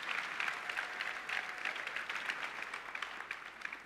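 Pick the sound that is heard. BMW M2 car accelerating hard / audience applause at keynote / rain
audience applause at keynote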